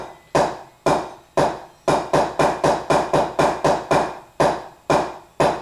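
Sharp drum strikes played solo: four evenly spaced quarter-note hits, then a quicker run of eight eighth-note hits, each a loud, crisp attack with a short ringing decay, no voices over them.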